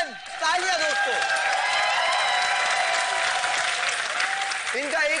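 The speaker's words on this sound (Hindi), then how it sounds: "तालियां दोस्तों।" Studio audience applauding a performer on a reality show stage, a loud, sustained wash of clapping and crowd noise, with a voice speaking briefly at the start and again at the end.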